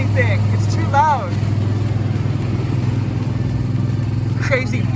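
A loud antique car engine drones steadily while driving, a constant roar filling the whole clip as people talk over it.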